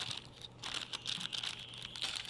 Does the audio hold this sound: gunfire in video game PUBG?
no